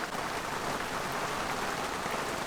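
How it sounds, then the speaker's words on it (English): Steady rain falls in New Providence in an even, hissing patter with no voices or other sounds. "The following morning, the rain kept on going."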